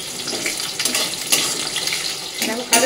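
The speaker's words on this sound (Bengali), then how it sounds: "তেলের মধ্যে কাজু কিশমিশটাকে একটু ভেজে নেবো" Cashews and raisins frying in hot oil for dal, a steady broadband sizzle with a few brief louder spits and stirring clatters, close and continuous with no talk.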